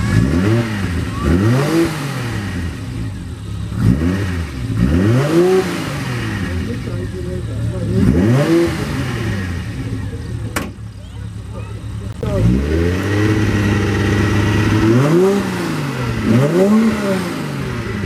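A Nissan GT-R engine at a classic car meeting revs repeatedly in rising and falling sweeps, loud and close, with a short lull midway and people talking beneath it.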